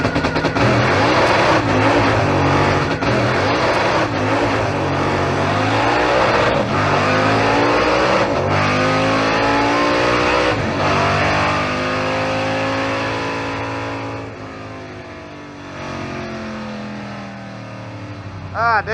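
A 1955 Chevy drag car launches down the strip, its loud engine roaring continuously with rising and falling revs for the full stretch, close and dominant, the pitch sweeping upward as it pulls away and fading slightly near the end.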